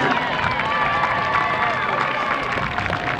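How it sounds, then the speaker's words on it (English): A crowd at a Kokomo High School football game applauds and cheers the seniors, a dense, continuous wash of clapping and shouting with babble mixed throughout. "let's say a big round of applause for the the Kokomo High School seniors"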